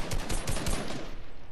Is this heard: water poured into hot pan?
no